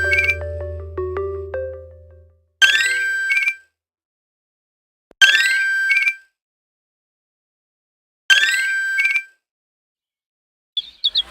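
A telephone rings in a Tamil film scene: a short stretch of tonal music is followed by three evenly spaced bursts of a bright electronic ringtone, each about a second long with silent gaps between, with no talking.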